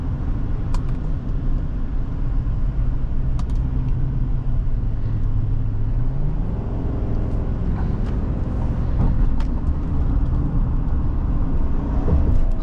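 A 2025 GMC Sierra 1500 SLT pickup accelerating on the road, a steady low engine rumble with one smooth rise in pitch and continuous road and tire noise from inside the cab.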